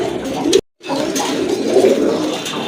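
Domestic pigeons, a pair kept for sale, coo in low throaty bursts nearby, broken by a brief silent gap before the soft burbling resumes.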